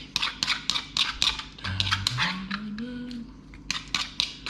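A utensil clinks and scrapes against a bowl in quick, irregular strokes while grated cheese is mixed with egg for keto wraps, close and moderately loud, with a brief tonal squeak partway through.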